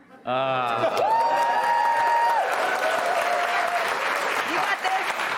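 Studio audience at a late-night comedy talk show bursts into sustained, loud applause with some cheering, swelling in just after the start and holding steady as a voice sings out above the crowd.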